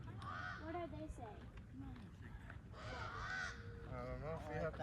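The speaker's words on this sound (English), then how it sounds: "how does a crow sing?" A crow caws in the woods with harsh, repeated calls that overlap with voices chattering nearby, all fairly quiet and muffled.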